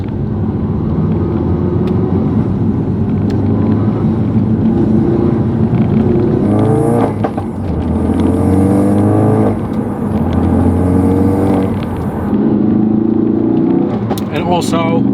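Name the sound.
Ford Focus RS car driving on the road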